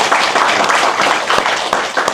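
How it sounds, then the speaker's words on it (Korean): A crowd at a political debate forum claps loudly and steadily, a dense, close wash of many hands applauding without pause. "큰 박수 부탁드립니다"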